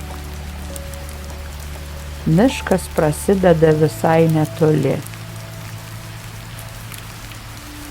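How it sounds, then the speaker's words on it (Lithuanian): Soft, steady rain falling on treetops in a dark spruce forest, a continuous gentle hiss throughout, with a voice speaking briefly over it in the middle. "Medžių viršūnėse lietus skamba kitaip negu ant stoties stogo"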